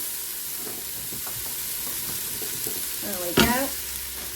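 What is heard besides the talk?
vegetables sautéing in a pot, potatoes added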